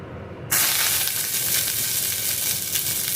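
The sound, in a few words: curry leaves sizzling in hot oil in a wok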